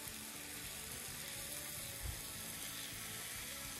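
Small chopped tomatoes stirred into a hot pan for imam bayıldı, giving a steady, soft sizzle with faint scraping, alone and fairly quiet throughout.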